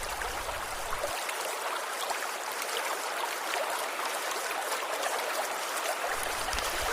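Steady broadband rush of the Kuang Si waterfall near Luang Prabang, Laos, constant and fairly close, with no voices over it.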